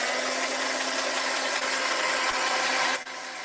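A heat tool blows steadily to dry tacky Pentart structure paste on a craft page: a loud, constant whirring hiss with a low hum that runs unbroken for about three seconds, then cuts off abruptly.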